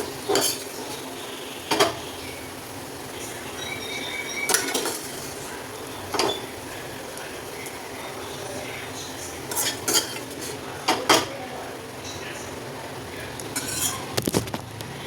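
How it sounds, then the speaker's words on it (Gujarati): Metal spoon scraping and clinking against a pan while serving Gujarati-style cucumber sabzi, a series of sharp, close clinks spaced irregularly over a quiet background hiss. "હવે આપણે ગેસને બંધ કરી સબ્જીને નીકાળી લઈશું।"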